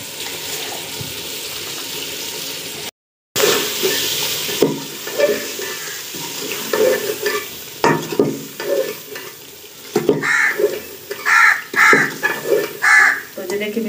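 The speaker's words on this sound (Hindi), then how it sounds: "देखिए मिसाले अच्छी तरह हमारे सही होने वाले हैं।" Spices with red chilli and salt fry and sizzle in a hot pan, stirred in repeated scraping strokes, loud and close, while a voice talks over parts of the cooking.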